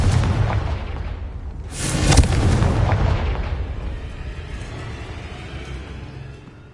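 Confringo, the explosive fire spell in Hogwarts Legacy, lands as a loud, close boom, followed by a long rumbling tail that slowly fades over several seconds.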